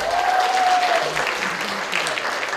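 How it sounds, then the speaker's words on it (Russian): Audience applause for contestants at a beauty pageant, a steady dense clapping that fills the hall throughout, with a faint tone sliding briefly near the start. "Давайте поддержим их аплодисментами."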